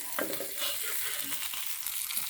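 Mackerel frying in hot oil in a pan, a steady close sizzle with soft crackles and a few stirring scrapes.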